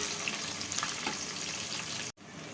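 Food sizzles and fries steadily in a pan while being stirred, a dense crackling hiss with scraping stirs, breaking off in a brief dropout near the end before resuming.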